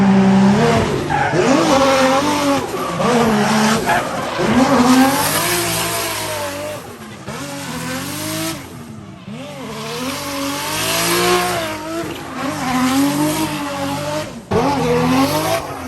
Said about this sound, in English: Adam's out there testing the E36 right now.